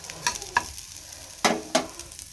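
Potatoes and cauliflower fry in a pan under a quiet sizzle, punctuated by four distinct clattering scrapes of a spatula stirring the pieces.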